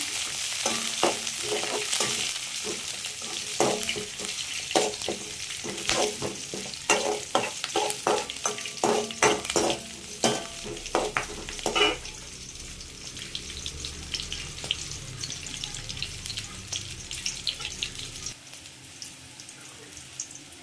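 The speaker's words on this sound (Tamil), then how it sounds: "இது கூடவே ஒரு கொத்து கறிவேப்பிலை, 2 பச்சை மிளகாய் போட்டு நல்லா வதக்குங்க." Curry leaves and green chilies are sautéed in a pan for a vendakkai kulambu, with a spoon clattering and scraping repeatedly against the pan over a steady sizzle, then the stirring stops and only a quieter frying hiss remains.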